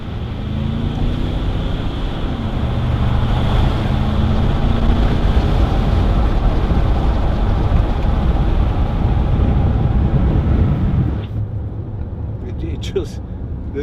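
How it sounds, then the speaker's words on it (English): A 2010 Range Rover Sport 3.6 TD V8 HSE diesel engine pulls hard uphill, a loud, sustained, rumbling roar that holds steady before easing off sharply near the end. "give it a bit of gas going up here. And even for a diesel, they sound really good."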